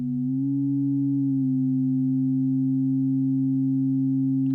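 Sustained steady tones from FM synth oscillators on a Eurorack modular system, with the pitch shifting slightly as they are tuned together; a smooth continuous drone, alone.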